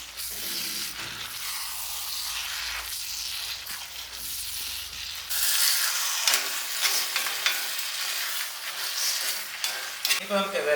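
Chicken curry being stirred in a pot, with scraping, clinking spoon movements over a soft bubbling sizzle, the stirring growing louder and busier partway through.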